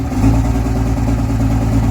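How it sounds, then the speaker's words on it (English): Diesel engine running at high idle on a lope tune, a steady, loud, close rumbling drone with a slightly uneven pulse and no talking. "this is what it sounds like when it high idles itself"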